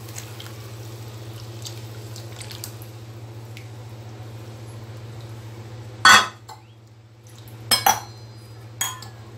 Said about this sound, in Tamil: கழுவிட்டு இப்போ மாவு ஊற்றிடலாம்.